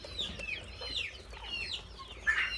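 Chickens cluck in a coop, several soft bird calls rising and falling in quick bursts, faint and somewhat distant, with a louder squawk near the end over low background hum.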